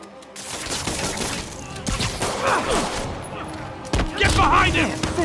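Rapid bursts of gunfire in the Spider-Man video game, dense volleys and sharp shots going off near and loud, with voices talking over the action.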